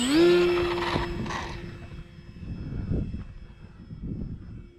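The electric motor of an Arrows RC Trekker model plane spins up to a steady high whine and then fades as the plane flies away, leaving a distant drone against outdoor noise.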